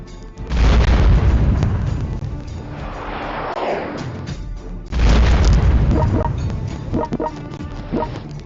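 Missile strikes in the war strategy game World Conqueror 4 land as two heavy, loud booms a few seconds apart, each a deep blast that rumbles and fades, the second followed by faint crackling debris.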